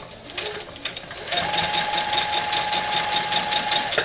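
A sewing machine stitches a border onto a quilt, with a few soft knocks at first, then a steady, close motor whir with a sustained hum once stitching gets going.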